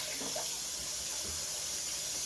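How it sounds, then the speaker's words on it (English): Hot water runs into a vinegar solution as a steady, even hiss of flowing liquid from start to finish, moderately loud and close, with no talking. "what I'm going to do is add a little bit of hot water"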